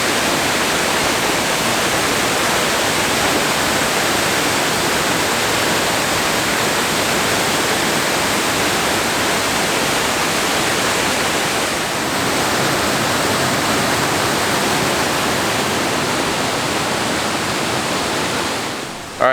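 Waterfall beside the second bridge on the High Divide Loop trail in Olympic National Park, a loud, steady broadband roar of rushing water that fills the whole stretch without pause, near and unbroken.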